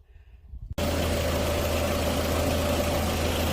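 A vehicle engine running at idle with a 14-volt system feeding an inverter and small space heater, starting abruptly and holding a steady, loud, even drone with a constant low hum throughout.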